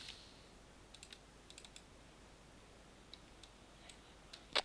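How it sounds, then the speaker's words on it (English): Quiet computer keyboard and mouse clicks tap out sparse, irregular bursts at a desk during 3D modeling work, with one sharper click near the end, all faint and close with no talking. "I'm just holding down control clicking"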